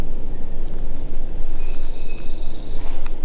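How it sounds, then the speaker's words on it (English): Pine warbler singing high in the pines of a forest: a faint, steady musical trill lasting about a second and a half, distant and partly buried under broadband background noise. "I hear a pine warbler. First warbler that I've heard this year."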